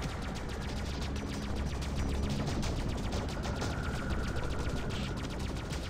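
Sustained rapid spaceship gunfire in the space combat game Freelancer, a dense unbroken stream of repeating shots lasting several seconds with no pauses.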